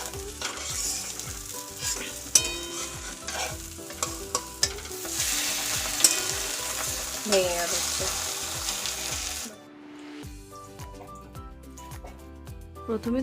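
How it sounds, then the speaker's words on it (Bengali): An egg fries in a pan with plenty of chopped onion and a little chilli, sizzling loudly and continuously with repeated stirring clatter, then dropping away abruptly to a much fainter crackle. "এটা হচ্ছে ছেলের ডিম ভাজা পেঁয়াজ বেশি দিয়ে লঙ্কা কম"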